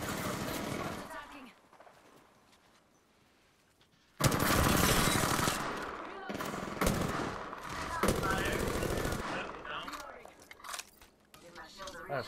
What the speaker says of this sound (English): There's so many people shooting at me.